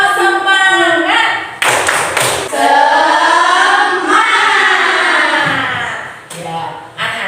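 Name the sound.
tepuk semangat, children's rhythmic spirit clapping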